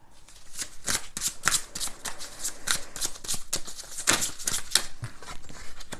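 Tarot cards being shuffled by hand: repeated riffling and slapping bursts in a steady rhythm, close and crisp, continuing without pause.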